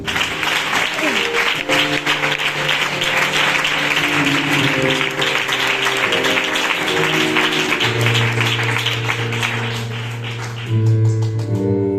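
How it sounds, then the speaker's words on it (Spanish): A church congregation claps together in a dense, sustained round of applause, close and loud, with sustained musical tones underneath and the clapping thinning slightly near the end. "Recibimos la palabra con un aplauso."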